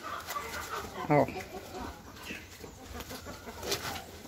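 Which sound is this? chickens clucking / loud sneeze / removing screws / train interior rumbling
chickens clucking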